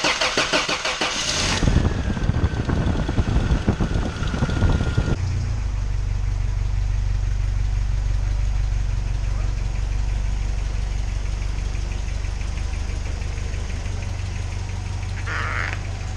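A 1985 Toyota 4Runner engine cranks for a few seconds, catches loudly, then drops into a steady, low, rumbling idle that runs on to the end, close by.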